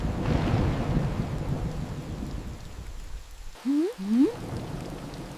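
Heavy rain with rolling thunder in a cartoon jungle storm, a dense steady downpour rumbling throughout, followed by two short rising springy boing-like effects near the end.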